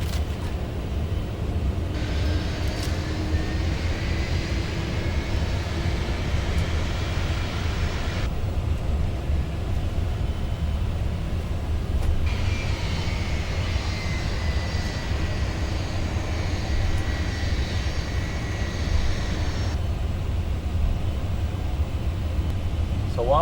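A Martinair McDonnell Douglas MD-11 jet taxis out toward runway 19 left with a steady, loud engine rumble and a whine that rises and falls throughout.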